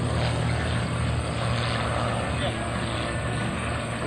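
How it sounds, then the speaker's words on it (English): Aerobatic propeller airplane taking off at a Willow Grove air show, a steady droning engine and propeller roar held at a constant level throughout, with no voices over it. "on the runway right now, taking to the sky"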